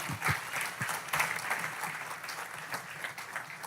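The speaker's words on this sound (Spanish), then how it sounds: "Démosle un aplauso al Señor" Applause from a church congregation during a sermon, with a few sharp claps standing out near the front of the crowd, sustained at moderate volume.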